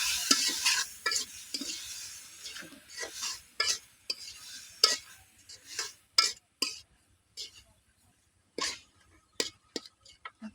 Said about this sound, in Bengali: এখন আমি শাকটা একটু নেড়ে দেব